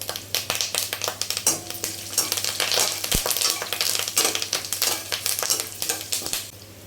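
Curry leaves crackle and sizzle in hot oil for a quick puffed-rice snack, a dense, close frying hiss with irregular popping bursts and stirring scrapes running steadily throughout.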